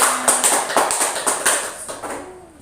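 Children in an elementary school classroom clap their hands in a brisk, rhythmic burst of sharp claps, fairly close and fading slightly toward the end, with no talking.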